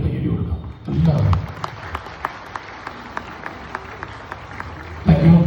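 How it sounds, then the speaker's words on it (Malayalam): Audience clapping at a stage show, heard as a steady, evenly spaced run of claps. Voices speak over the start and the end. "ഈ ഒരു നിമിഷം ഇഷ്ടമായെങ്കിൽ ഒരു കൈയടി കൊടുക്കാം എല്ലാവരും."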